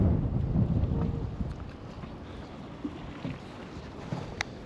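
Wind buffeting a microphone outdoors during an electric motorbike ride, low rumbling gusts strongest at the start, then easing into a softer, uneven rush with a few brief thumps.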